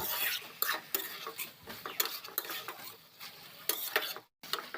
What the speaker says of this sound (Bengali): এবার সর্ষেটা দিয়ে সব কিছু খুব ভালো করে মিশিয়ে নেব